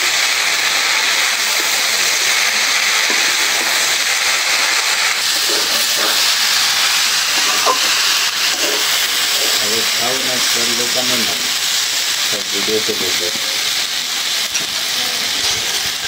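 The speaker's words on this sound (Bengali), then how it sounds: "শাক ভাজা হয়ে গেল, উঠাই দিই।" Leafy greens frying in a pan, a steady loud hiss of sizzling oil running throughout, with a person talking over it partway through.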